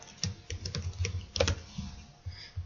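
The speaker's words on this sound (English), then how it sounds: "type in the name of your ingredient" Someone types on a computer keyboard, entering an ingredient name in recipe costing software; close, quick irregular keystrokes in short bursts, with no talking.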